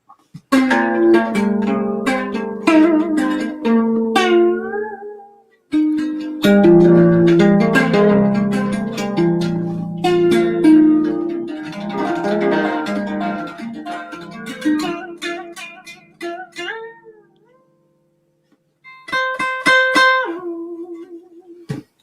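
A homemade guitar strummed and picked, ringing chords and plucked notes in bursts separated by brief pauses, fairly close and clear, with a short quieter passage near the end.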